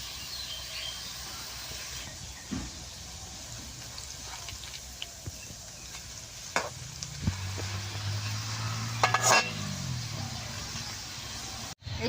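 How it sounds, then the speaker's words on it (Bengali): Banana flower peel fries in oil with a soft, steady sizzle at a moderate distance, broken by faint crackles, a stronger bubbling burst near the middle and a sharp knock at the end; no one speaks. "তেলের মধ্যে দিয়ে নগে নগে দেন কিরকম চুমচুমিয়ে উঠতেছে।"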